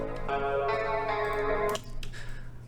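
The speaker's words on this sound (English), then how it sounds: "basically you just hear the guitar plucks" A guitar pluck sample with its low end removed, played as a processed, effected phrase of bright sustained plucked notes for under two seconds, then a few softer trailing plucks.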